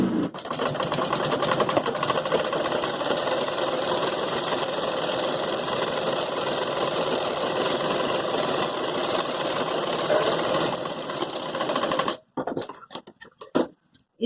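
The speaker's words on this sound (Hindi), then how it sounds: "अब यहाँ पे इसकी किनार किनार पर मैं सिलाई लगाना स्टार्ट करूंगी" A sewing machine runs steadily and loudly for about twelve seconds, stitching along the edge of a Patiala salwar, then stops with a few scattered clicks and handling noises.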